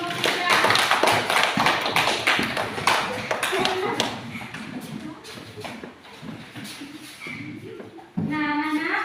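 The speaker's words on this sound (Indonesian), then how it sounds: "silakan berikan tepuk tangan buat kelompok 3" Classroom applause for student group 3 during an Indonesian school lesson: a burst of clapping from many pupils that fades over several seconds, followed by a teacher talking.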